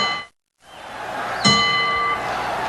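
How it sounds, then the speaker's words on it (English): A boxing ring bell signals round 7 of a heavyweight bout between Muhammad Ali and Ken Norton, a single bright clang ringing out loudly and sustaining over arena crowd noise after a brief dropout. "All right, the bell for round 7."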